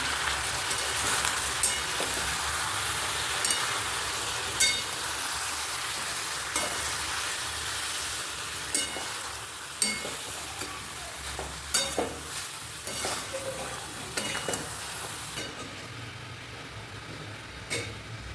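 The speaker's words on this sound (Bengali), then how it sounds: "এখন এটা একটু কষিয়ে নিই।" Onion sautéing in a pan with a steady sizzle and hiss, a spoon stirring and scraping at irregular intervals, fairly close and with no voices.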